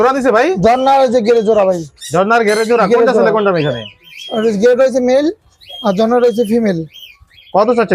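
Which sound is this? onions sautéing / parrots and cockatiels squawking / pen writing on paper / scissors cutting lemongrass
parrots and cockatiels squawking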